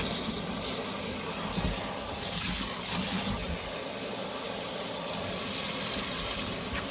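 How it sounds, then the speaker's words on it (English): Water steadily pouring and gushing into a container holding a computer keyboard, a continuous, even rush of liquid with no talk over it. "You just keep on pouring it in there"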